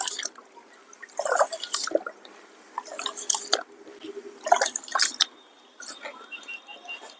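Finger millet grain is squeezed and rinsed by hand in water, making bursts of splashing and dripping that come in irregular spurts with quiet gaps between them.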